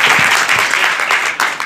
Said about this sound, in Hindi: आप बच्चों से सबसे आग्रह है कि आप ताली बजाकर स्वागत करें इनका।